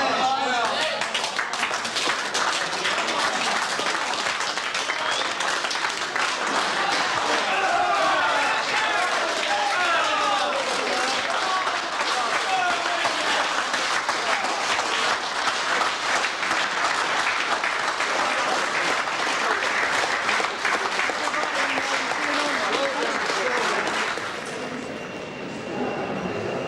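A prison audience applauds and cheers continuously as an inmate does press-ups, dense sustained clapping and shouting throughout, dropping away near the end.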